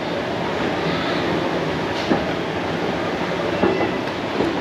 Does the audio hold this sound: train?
yes